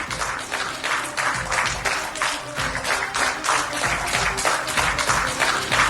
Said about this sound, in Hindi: मंत्रियों ने मेज थपथपाकर और तालियां बजाकर उनका भव्य स्वागत और अभिनंदन किया